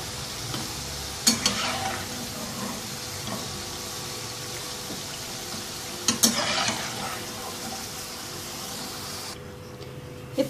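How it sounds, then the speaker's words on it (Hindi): French fries deep-fry in oil, a steady bubbling sizzle holding for several seconds, with a couple of sharp metallic clinks of a utensil against the pan, close and even. "ऐसे ही तमाम फ्राइज़ को फ्राई कर लेंगे"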